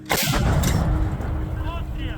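A sharp, heavy artillery gun blast bursts out at the start, followed by rolling rumble and faint voices in the background.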